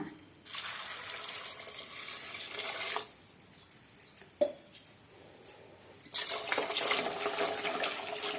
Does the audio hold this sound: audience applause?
no